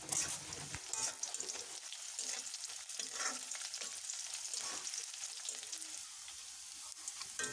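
Onion frying in a pan for a soybean curry gives a soft, continuous sizzle and crackle, with occasional stirring scrapes throughout, fairly quiet and close.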